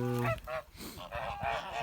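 Several geese honk loudly nearby, a burst of nasal calls at the start followed by more scattered honks and cackles.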